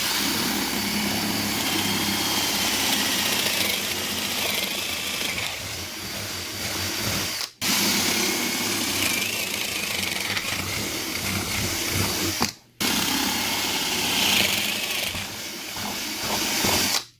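A power drill with a paddle bit whirs steadily as it bores through wood for a carpenter bee trap, running loud and continuous with two brief stops between long bursts.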